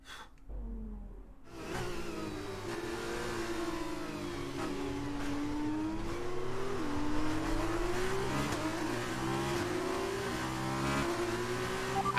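An F1 2019 race car in the video game screams at high revs, its engine pitch rising and dipping through gear changes with tire noise, loud and continuous after a brief quiet start.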